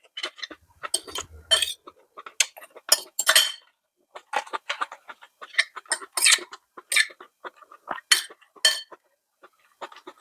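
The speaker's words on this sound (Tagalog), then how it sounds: "Halu-haluin na natin ito guys." Pancit noodles with ground chicken being stirred, giving a busy run of sharp metallic clinks and scrapes of utensil against pan, close and fairly loud with short pauses, no talk.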